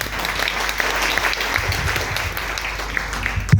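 A crowd gives loud, sustained applause at a speech, a thick, continuous roar of clapping hands that holds steady, ending with a dull thump near the close.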